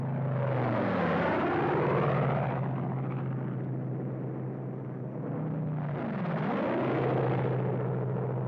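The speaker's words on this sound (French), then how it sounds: "Les bombes sont lâchées. L'avion remonte." A bomber aircraft's engines roar during a wartime bombing run, swelling loud as the plane passes overhead, easing, then rising again with a second pass, a deep rumbling drone with sweeping pitch shifts.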